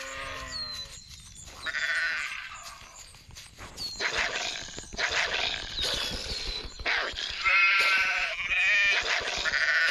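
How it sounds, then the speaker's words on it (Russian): Sheep bleat repeatedly in the video game The Wolf, several wavering calls overlapping with other animal cries and game sounds, loud and close throughout. "Овца."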